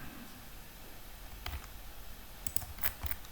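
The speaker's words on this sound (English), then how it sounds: "left click at the circle and the point" A computer mouse clicks while a drawing is made in LibreCAD, giving a few small, crisp clicks spaced apart over faint background hiss.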